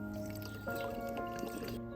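Water runs steadily into an empty spray bottle, with a continuous trickling, gurgling sound and faint tonal ringing throughout.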